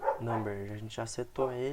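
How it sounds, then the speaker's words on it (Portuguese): Dogs bark repeatedly in the background while someone talks in Portuguese over them. "desculpa pelos cachorros aí, mas não tem nada que eu possa fazer"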